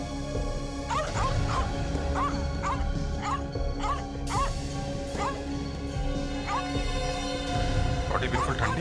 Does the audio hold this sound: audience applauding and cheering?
no